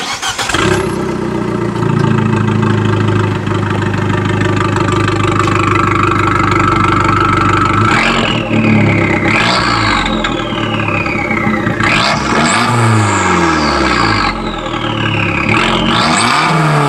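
Fiat 500 Abarth 695 Rivale, engine warm, starts up and is revved repeatedly, rising and falling sweeps over a steady idle, loud and close with no voices.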